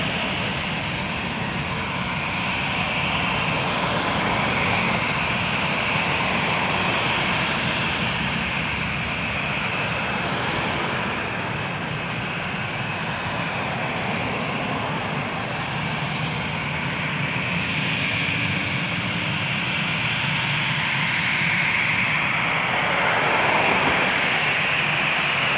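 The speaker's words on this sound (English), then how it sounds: "Embraer 175, Jazz 880 to Newark, lining up runway 23" Engines of a Jazz Embraer 175 jet lining up on runway 23 at Toronto Pearson produce a continuous distant roaring whine that stays steady throughout, with a slight swell near the end.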